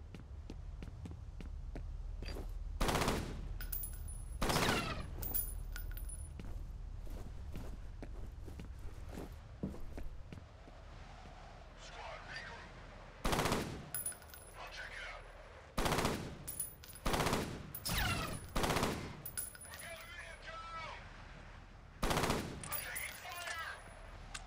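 Pistol fire in the video game F.E.A.R., loud sharp shots in a burst of three, then a quick run of rapid shots, over low ambient hum with faint footsteps between.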